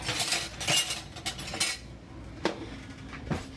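Metal cutlery clinks and rattles while searching through utensils for a large spoon, busy at first, then a few separate clanks, close by.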